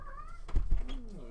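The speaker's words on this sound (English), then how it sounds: "There's a very sad looking cat that wants to get in." A domestic cat meows to be let inside, two short rising-and-falling cries with a couple of soft thuds between them, close and fairly clear, with no talk.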